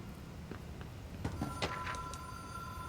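Faint telephone ringing far in the background of the video game Control, a few quiet, thin bell-like trills over a low ambient hum in a dim office setting.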